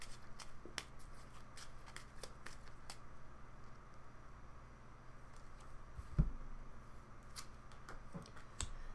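Tarot cards are shuffled by hand in quick, soft riffling clicks and flicks, close and fairly quiet, repeating unevenly over several seconds with a sharper tap partway through.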